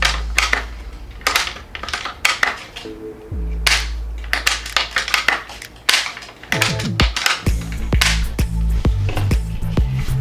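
Sharp metallic clicks and clacks from a Umarex Gauntlet Gen 2 .22 air rifle being handled and cocked come in irregular bursts, with a low motor-like hum and a drop in pitch early on, close and fairly loud.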